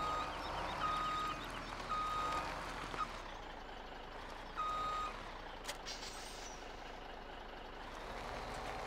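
A truck in Farming Simulator 17 backs up with its reversing alarm beeping in evenly spaced single tones over a low engine rumble, with a hiss of air brakes midway.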